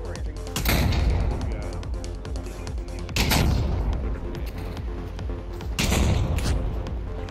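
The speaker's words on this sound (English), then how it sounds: "they're shooting at you!" Heavy gunfire booms through a WW2 battle in the VR shooter Pavlov VR, three loud rumbling bursts of shots spaced a few seconds apart over constant battlefield noise, with players talking in between.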